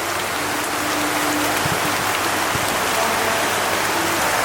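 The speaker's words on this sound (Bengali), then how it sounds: "ফজরের আগ থেকে এত বৃষ্টি হচ্ছে মসজিদে আজান হলো এখন নামাজ শুরু হয়ে গেছে কিন্তু মুসুলধারে বৃষ্টি" Torrential pre-dawn rain pours down steadily, a loud, dense, unbroken roar of water striking surfaces nearby.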